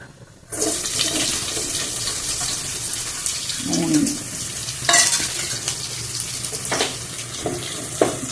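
Onions frying with cumin seeds in hot coconut oil, a dense sizzle starting abruptly after a brief quiet moment, with scattered sharp crackles and scraping clatters of a spoon against the pan.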